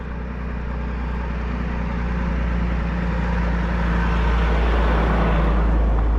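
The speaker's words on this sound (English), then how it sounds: "Truck is going to pick up some logs." A log truck's engine rumbles with a low, steady drone that slowly swells louder as it approaches over soft ground, with no talk over it.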